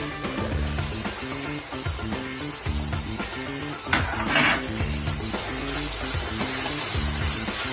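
Ginger garlic paste frying with sautéed onions in a pan for a crab roast, a steady close sizzle with occasional stirring clatter and scrapes of the utensil.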